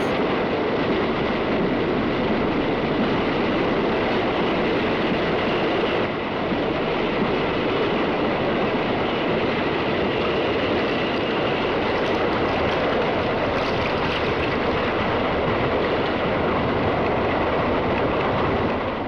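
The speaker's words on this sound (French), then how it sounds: "Et c'est ainsi sans interruption que la locomotive A4 poursuit sa route jusqu'à destination." A British LNER A4 steam locomotive runs at speed on rails, producing a loud, unbroken rumble with a faint rhythmic clatter that holds steady throughout, and no one speaks.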